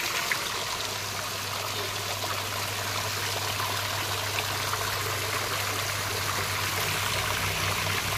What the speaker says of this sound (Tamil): மழை பெய்கிற மாதிரி அப்படியே ஊற்றுது ஃபுல்லாக.